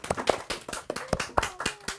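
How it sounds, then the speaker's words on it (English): A small group of students claps in a classroom, a quick round of distinct, slightly uneven hand claps close by, about a dozen sharp hits over two seconds with faint background voices. "Let's give her one round of applause."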